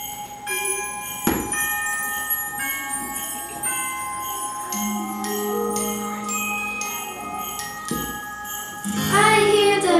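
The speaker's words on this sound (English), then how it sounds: "I hear the bells ringing" Bells ring in a steady cluster of bright, sustained tones with some tinkling, layered over a busy background and a brief burst of louder sound near the end.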